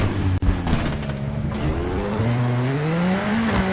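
A rally car in the WRC 7 Xbox racing game revs hard on a tarmac stage, its engine pitch rising and falling through gear changes with a brief tire squeal, loud and close throughout.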